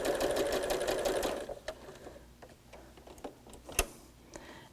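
Sewing machine stitching a seam down one side of quilt squares for half-square triangles, a dense steady whirring run that stops after about a second and a half, followed by faint handling clicks and one sharp tap.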